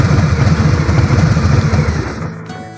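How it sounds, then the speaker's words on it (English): A 2022 Harley-Davidson Softail with a Stage 1 slip-on exhaust idles close and loud, its uneven lumpy pulses beating steadily before the rumble tapers away near the end. "I think you might agree, it sounds pretty lumpy."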